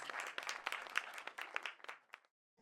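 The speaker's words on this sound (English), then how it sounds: "Can we have a huge round of applause" A theatre audience at a London Q&A at The Ritzy applauds as guests come up to the stage, a dense burst of clapping that dies away after about two seconds into near silence.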